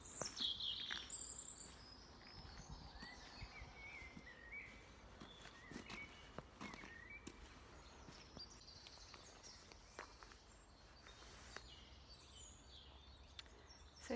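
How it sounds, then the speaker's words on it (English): Birds chirp and trill outdoors in spring woodland in scattered bursts over a soft background hush, with faint footsteps or rustling underneath. "birds in the sky."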